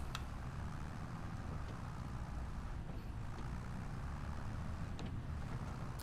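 A tractor engine in the New Frontier video game hums as a steady, low rumble with a faint wash of higher noise, holding constant throughout with no voices over it.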